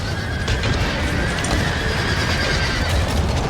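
Horses in the video game Empire: Total War whinny amid a dense, loud battlefield din of hooves and crowd noise, steady throughout the short stretch.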